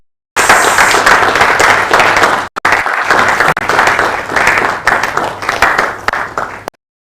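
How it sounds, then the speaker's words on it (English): A round of applause from an audience at a medical live-streamed event, steady dense clapping that starts abruptly, briefly breaks, then carries on before cutting off sharply. "Please, a round of applause."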